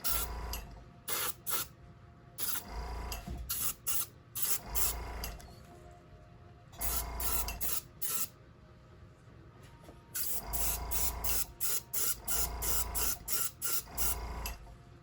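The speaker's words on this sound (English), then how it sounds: "although this is a nice airbrush, doing the pattern does take a lot longer than my usual rattle can spray bombs." Airbrush spraying paint onto a 1/24 scale NASCAR Chevrolet Lumina model car, a close hiss that comes in repeated bursts of one to two seconds separated by short quiet gaps.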